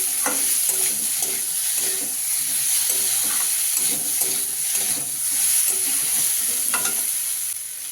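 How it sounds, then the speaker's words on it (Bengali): Pumpkin curry with prawns and coconut is stirred with salt in a frying pan, giving a close, steady sizzle under repeated scraping spoon strokes and no talk. "লবণটা দিয়ে দেখো ভালো করে সবজির সাথে আমি মিশিয়ে নিচ্ছি"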